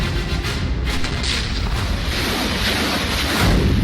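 Explosions and blasts in the Russia-Ukraine war, around Kyiv, heard as a continuous loud roar of rumbling booms and crackling debris, with a heavier surge near the end.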